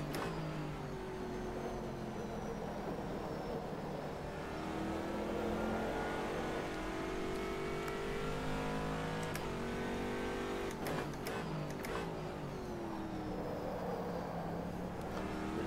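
A Corvette C6R GT2 race car in rFactor 2 at Silverstone, its engine droning steadily with harmonic tones rising and falling through gear changes, with a few sharp clicks or shifts near the middle.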